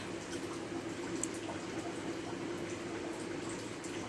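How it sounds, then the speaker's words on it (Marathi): Cumin seeds roasting in hot oil alongside peanuts in a pan while preparing stuffed fried bitter gourd, a steady soft sizzle and crackle running continuously at low level with no voices. "शेंगदाण्यासोबत जिरे पण लगेच भाजून निघतील"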